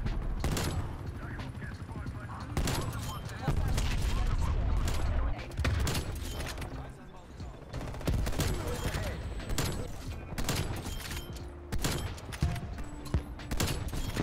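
Gunfire in Black Ops Cold War crackles in repeated bursts and single loud shots, close and sharp, with a voice briefly talking between volleys.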